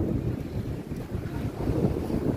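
Wind blowing across an open park on an overcast Sunday, a steady low rushing roar with microphone buffeting that swells and dips throughout, with no voices.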